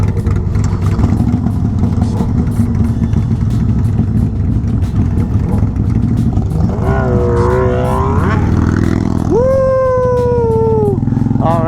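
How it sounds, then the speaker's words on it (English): A motorcycle engine rumbles loudly and steadily up close, then rises in a couple of sharp revving pulls near the end, with no talk over it. "Gotta turn the bike on."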